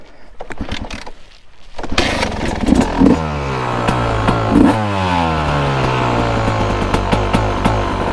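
Yamaha YZ250 two-stroke dirt bike engine, running lean, revved up loudly close by, holding high revs briefly with rising and falling pitch sweeps and rattly mechanical clatter.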